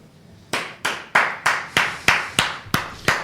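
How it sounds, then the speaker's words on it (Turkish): About eight sharp hand claps close by, in a steady, evenly spaced rhythm with short pauses between, and no voices. "Ben hocam alkışlıyorum."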